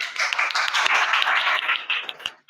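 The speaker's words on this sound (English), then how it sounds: "clap for her" A classroom group claps for a student, a brisk burst of many hands lasting about two seconds before fading out abruptly.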